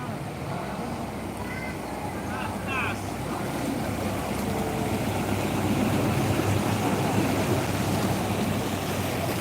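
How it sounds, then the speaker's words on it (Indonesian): Flood water in a large Makassar housing estate surges and washes in waves stirred up by passing cars, a continuous rushing wash building slightly in loudness, with wind noise and brief bits of talk. "Ada ombak besar lagi mau datang"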